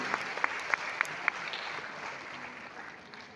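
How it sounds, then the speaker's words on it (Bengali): An audience clapping, starting with several sharp distinct claps and settling into a steady applause wash that slowly fades, no voices over it. "বড় বড় একটা হাততালি হওয়া আছে"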